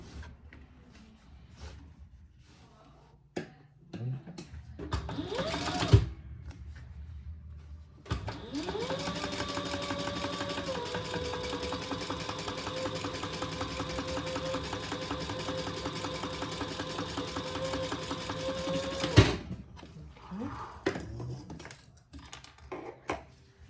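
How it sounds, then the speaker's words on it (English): A sewing machine runs in one long, steady burst of about eleven seconds, top stitching the seam allowance on a handmade Pachira bag, with quieter handling and fabric rustles before and after the stitching. "Then we're gonna turn that and top stitch the seam allowance going towards the bottom."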